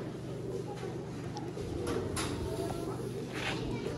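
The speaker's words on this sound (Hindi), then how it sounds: "ये होते हैं जी नायाब कबूतर" Rare pigeons kept in a loft at a breeder's setup, cooing softly and steadily amid background rustle and ambient noise, with no clear talking.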